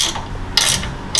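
Ratchet wrench tightening a bolt on a trailer hitch receiver for a teardrop camper, a short run of close, crisp clicking bursts with brief pauses between strokes.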